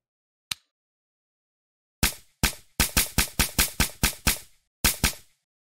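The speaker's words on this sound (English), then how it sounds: "If I go ahead and just shoot a couple shots," Gunshots from a first-person shooter game plugin: one lone shot, then after a pause a rapid string of about ten sharp, loud reports with short decays, the last one coming after a brief gap.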